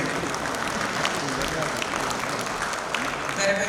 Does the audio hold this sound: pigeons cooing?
no